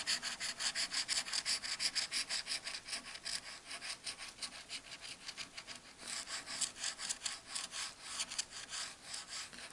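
Coin scraping a French FDJ scratch-card lottery ticket themed on the Paris 2024 Olympic Games, heard as close, steady rapid raspy strokes repeating throughout with no talk.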